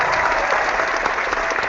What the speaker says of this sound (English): let me clap for each one of them